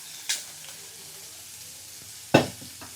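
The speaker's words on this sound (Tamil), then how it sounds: "நல்லா வெங்காயம் வந்து கோல்டனாக வதங்கட்டும்." Onions and curry leaves sizzling in a frying pan for sambar, with two short bursts of louder sizzle or stirring over a faint steady background and no talk.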